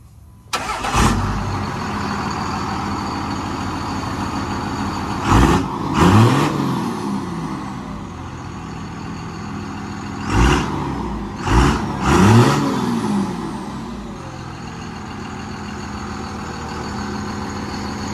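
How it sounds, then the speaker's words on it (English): A diesel pickup truck cold-starts with a loud cranking catch, then settles into a steady clattering idle, with several sharp revs and bursts punctuating the rumble. "Now we're gonna go ahead and give you a little cold start."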